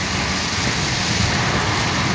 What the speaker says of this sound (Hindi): बहुत ही प्यारा मौसम और प्यारी बारिश, ठंडी ठंडी हवा